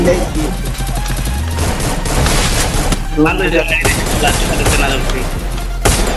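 Rapid video game gunfire in a Bangladeshi battle royale match, loud overlapping bursts and booms filling the whole stretch, with a player's voice over the shooting.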